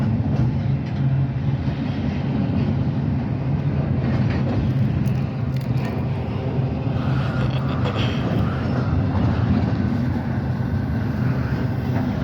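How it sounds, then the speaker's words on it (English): A CSX intermodal freight train rumbles steadily past up close while slowing to enter a yard, a continuous loud low roar with faint clanking and a hiss of air being released. "I hear air being released."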